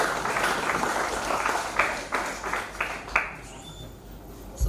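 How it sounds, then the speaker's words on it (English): An audience applauds at a university research symposium after a presentation, a steady wash of many hands clapping in a hall that gradually thins and fades toward the end. "So let's give a clap to Dr. Mutaya for the presentation."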